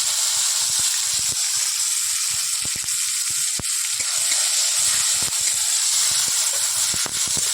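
Chopped tomato and dried red chilli with five-spice seeds sizzle in hot oil for dal tempering, a loud continuous hiss broken by sharp popping crackles scattered irregularly throughout, close up with no speech.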